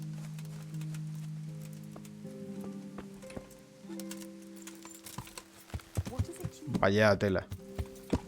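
Horse hooves clip-clop lightly in the Kingdom Come: Deliverance video game, mixed with game sounds and faint background music, while someone speaks briefly near the end.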